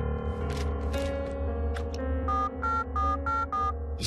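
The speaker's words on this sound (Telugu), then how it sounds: "రింగు వెళ్తుందయ్యా" A telephone ringing on an outgoing call, with repeated short tonal ring bursts in a steady rhythm over a constant background hum.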